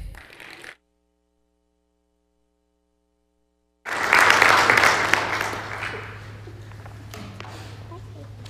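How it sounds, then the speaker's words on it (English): An audience applauds after a senior project presentation: a brief voice, then a pause of silence, then a loud burst of clapping that swells and slowly thins out. "Now you can clap."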